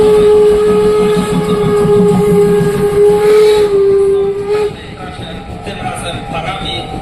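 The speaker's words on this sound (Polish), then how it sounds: "lokomotywa niemiecka oraz dama z Luksemburga" A German steam locomotive at a steam locomotive parade in Wolsztyn sounds a long, steady horn over a rumbling engine, then the horn cuts off, leaving rail noise and people talking.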